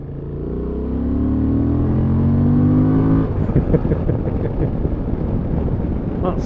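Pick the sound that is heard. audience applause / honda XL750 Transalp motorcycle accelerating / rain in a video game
honda XL750 Transalp motorcycle accelerating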